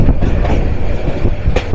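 The Parabat Express runs on rails between Dhaka and Sylhet, a loud, steady rumble with rhythmic wheel clacks heard close throughout.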